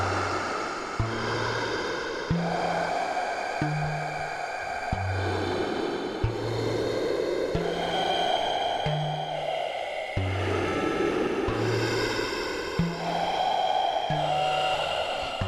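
Modular synth patch run through a Qu-Bit Aurora spectral reverb with the dry signal mixed in: a repeating low pulsing bass sequence under a sustained, shimmering wash of reverberant tones, steady and continuous.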